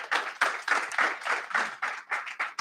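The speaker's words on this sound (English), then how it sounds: "guys, a round of applause for our guests" An audience at a franchise business seminar applauds its guests in a short, lively burst of many hands clapping in quick, uneven rhythm, fairly close and with no talk.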